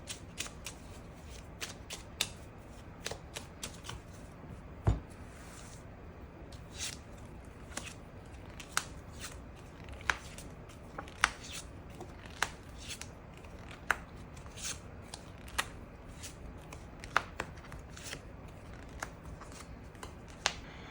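Tarot cards being shuffled by hand in a quiet room for a love reading, a steady run of soft riffling with sharp card flicks and taps scattered across the whole stretch, close and fairly quiet with no talking.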